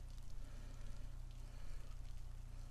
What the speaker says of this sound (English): Oh Lord, it's raining.